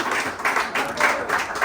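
An audience at a French-language radio celebration claps in short, rhythmic bursts, several quick pulses of group clapping in a brief, fairly close stretch.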